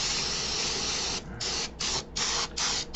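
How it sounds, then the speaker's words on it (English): An aerosol can of brake cleaner sprays into the threads of a Harley primary, a loud close hiss in several bursts of differing lengths separated by short pauses. "Last but not least, take a little brake clean."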